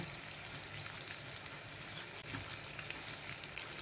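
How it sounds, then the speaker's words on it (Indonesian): Ground chili is stir-fried in a pan, giving a steady, even sizzle that carries on without a break, faint and close. "kita akan tumis. Kita masukkan cabai yang udah digiling"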